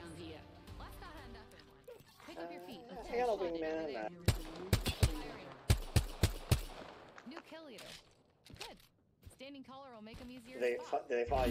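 Video game gunfire: several sharp, loud shots fired in a quick cluster midway, with more scattered shots later, amid heavy talking and laughter from players.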